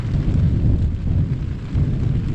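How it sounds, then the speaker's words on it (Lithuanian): Rain falls during a motorcycle trip toward Montenegro, heard as a steady, close, low rumbling wash mixed with heavy wind buffeting on the microphone, with no talk. "Lyja"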